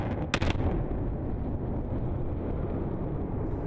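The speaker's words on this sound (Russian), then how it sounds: "Взрыв." A sharp mine blast in a diamond open-pit quarry in Yakutia in winter cracks near the start, followed by a deep, sustained roaring rumble that lingers at steady loudness.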